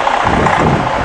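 A DD13 diesel engine idles at the rear of a 2012 Setra S407 highway coach with 214,000 miles, a loud, steady low hum and rumble heard up close, with no talking.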